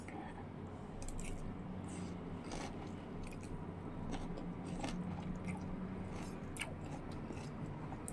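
Someone bites into and chews a mouthful of garden salad of carrot, apple, grape, cucumber, lettuce and cherry tomatoes dressed with mayonnaise and black pepper, giving soft crisp crunches and moist squishing, close but quiet over low room noise.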